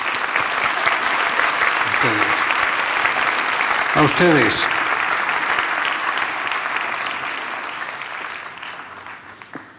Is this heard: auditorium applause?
yes